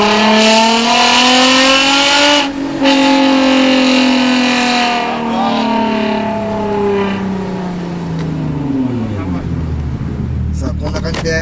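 Toyota Mark X sedan with a one-off custom muffler revs hard, holding a loud raspy exhaust note, then the engine falls away and winds down toward idle, with a few clicks near the end.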